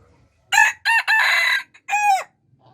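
A single rooster crows loudly and close by, a full broken cock-a-doodle-doo in several bursts, with quiet in between and no talking.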